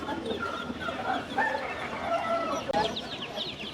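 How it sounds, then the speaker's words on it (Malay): Live chicks and chickens at a local market in Sibu, a steady busy chorus of clucking and high peeping from nearby birds, with faint background bustle and no clear speech. "Ada anak ayam."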